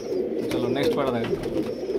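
A male pigeon coos in soft, repeated throaty phrases close by, with a voice talking over the calls throughout.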